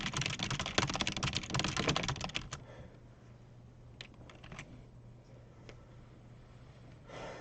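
Quick, close typing on a computer keyboard clatters for about two and a half seconds, then gives way to a low hum with a few scattered key taps and a final short burst.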